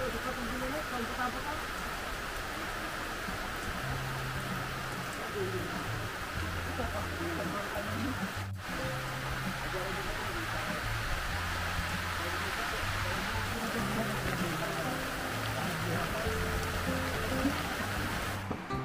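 Heavy rain from an approaching typhoon pours down on a farm in a steady, dense hiss that fills the whole stretch, with faint low tones under it.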